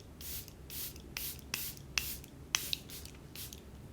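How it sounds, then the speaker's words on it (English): Setting spray spritzed onto a face while getting ready for a holiday party: a series of about eight short, soft hissing bursts in an uneven rhythm, close to the mic and alone without talk. "I'm gonna spritz my face with setting spray."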